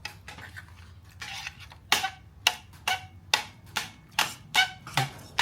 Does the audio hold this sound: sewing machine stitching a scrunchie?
no